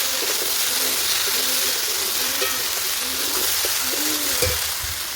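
Potatoes sautéing in a pan for a cauliflower posto dish, their cooking water boiled off, giving a steady close sizzle and fry hiss with soft stirring scrapes throughout.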